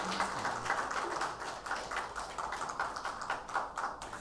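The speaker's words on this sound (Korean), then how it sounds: "은혜로운 찬양해 주신 우리 성가대원들에게 다시 한번 감사의 박수하겠습니다" A church congregation applauds the choir after a Sunday service hymn, a dense, steady patter of many hands clapping together throughout, moderately near and without talk.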